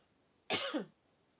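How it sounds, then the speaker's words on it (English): A single close, sharp cough, a short burst with a slight second push at the end, alone in a quiet room. "Excuse me, I'm gonna cough."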